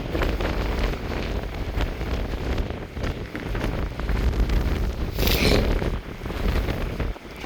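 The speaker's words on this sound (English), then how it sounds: "Ah, dang this wind." Strong wind blusters across a microphone on the Hummocks Trail near Mount Saint Helens, a loud, continuous buffeting roar with gusty swells and no talking.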